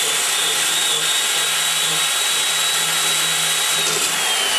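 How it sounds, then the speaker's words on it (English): Valve seat grinding stone being dressed on a small block Chevy Edelbrock E-series 200 cylinder head job, a steady continuous high whine and rushing grind held at even loudness throughout with no pauses. "So I'm going to sharpen my stone again."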